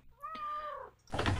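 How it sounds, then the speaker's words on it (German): A cat in a detective adventure video game gives a single clear, drawn-out meow lasting about half a second, close and alone, followed by a burst of broad mechanical noise. "Ach so, das war die Katze, die wir gehört haben, als wir verkleinert waren."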